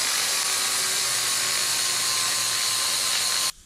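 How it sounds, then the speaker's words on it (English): A flap disc grinds off rivet heads, a high, steady whine running continuously, loud and close, then cutting off abruptly near the end. "I'm just going to grind the heads of those off"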